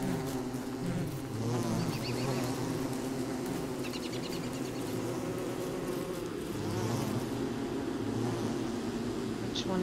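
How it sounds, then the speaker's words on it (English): Bees buzz steadily throughout in the video game Don't Starve, a dense insect drone layered over low in-game ambient tones, moderately loud and continuous. "Bees don't really take that much damage"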